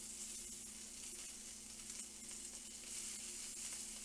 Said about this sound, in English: Listen to that sizzle, eh?